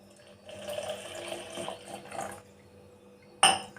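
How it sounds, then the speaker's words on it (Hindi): Milk pours into a glass in a kitchen, a soft steady trickle lasting a couple of seconds, then a sharp clink of glass or utensil, close and quiet. "इसमें आधा गिलास में दूध डालती हूँ"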